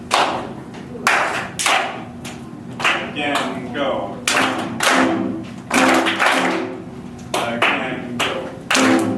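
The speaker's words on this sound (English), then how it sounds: "the best way to do this is actually to clap it" Hands clapping a repeated down-down-up-up rhythm in a jazz workshop, sharp close claps in spaced groups, with a voice calling cues between them.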